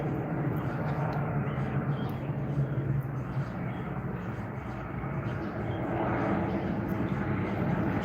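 A broad, steady roar of an airplane passing overhead, swelling slightly toward the end, with no talking.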